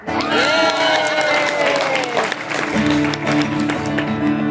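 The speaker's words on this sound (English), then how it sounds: "You're allowed to applaud that." An audience applauds at the opening event of AFW 2022. The clapping and crowd noise are fairly loud and continuous, mixed with music playing in the hall.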